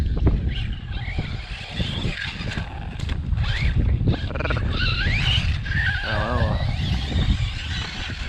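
A Team Corally Python off-road RC car runs laps on an outdoor dirt track to warm its tyres, its whining motor rising and falling steadily under heavy wind noise.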